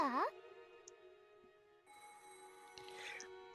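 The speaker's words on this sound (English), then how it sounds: "the phone rang" A telephone rings in the Umineko When They Cry visual novel game, a chiming electronic tone that starts, pauses, then resumes, set over steady background music.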